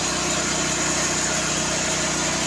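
A loud engine drones steadily close by, a constant heavy running rumble with a faint low pulsing throb, and no talk over it.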